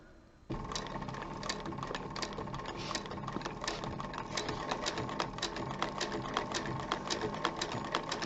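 A sewing machine slowly stitching a zipper in place on a zip-around wallet starts after a brief quiet moment, then runs as a steady, close mechanical whirr with a rapid, regular needle clatter.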